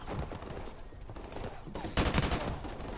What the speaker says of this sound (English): there's people shooting me from across the fucking way